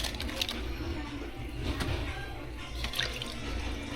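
Water runs at a kitchen sink as cabbage is washed, a low, steady splashing with occasional drips and light clinks, close by, with a voice speaking briefly now and then.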